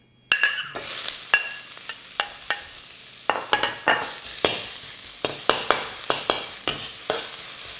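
Onions frying in a small amount of oil over medium-high heat for Korean japchae, a steady sizzle broken by repeated sharp scraping and stirring strokes at an uneven rhythm, close and clear with no talking.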